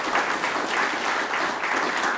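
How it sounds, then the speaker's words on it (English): Loud, steady applause from a commencement ceremony audience, dense clapping that fills the whole stretch without any talk over it. "let's give him a round of applause"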